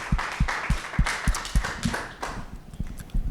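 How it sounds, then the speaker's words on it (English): A small audience at a panel discussion on diversity, equity and inclusion claps for a panelist, the sharp handclaps falling in a steady rhythm and rising loud and near, then thinning out toward the end. "We can give him a round of applause,"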